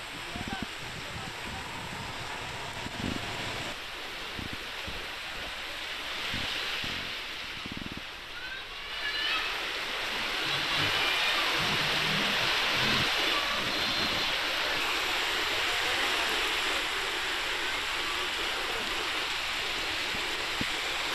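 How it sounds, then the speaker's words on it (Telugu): Heavy rain pours steadily during a thunderstorm in Nampally, Hyderabad, a dense continuous hiss that swells louder partway through, with faint voices underneath. "నాంపల్లిలో భారీ వర్షం కురుస్తోంది."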